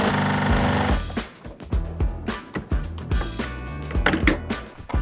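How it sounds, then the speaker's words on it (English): Rusted screws on a car windshield valance are drilled out one by one, a loud continuous whir at first, then a series of short, uneven grinding bursts up close. "these screws are rusted. And that means we have to drill them out one by one"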